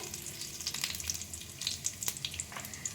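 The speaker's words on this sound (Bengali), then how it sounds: "ফোড়নটা একটু ভাজা ভাজা হবে" Cumin seeds tempering in about a spoonful of hot oil in a pan, a steady close-up sizzle with scattered sharp crackles and pops throughout, no talking.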